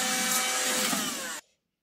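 A handheld vacuum cleaner runs with a loud, steady high-pitched whine and airy hiss, then shuts off abruptly and leaves silence.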